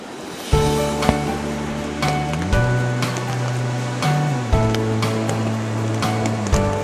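Water flows and splashes continuously in the Wangpicheon stream in Uljin, South Korea, under drizzling rain, with a steady wash of rushing stream noise and occasional soft hits like light rain falling.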